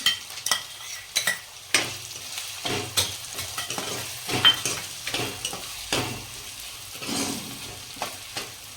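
Finely chopped onions sautéing in a pan for paneer masala, stirred repeatedly so scraping spoon strokes rise over a steady close sizzle throughout.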